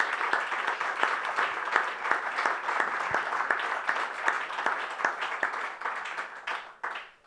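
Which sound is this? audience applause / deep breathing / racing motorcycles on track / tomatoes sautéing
audience applause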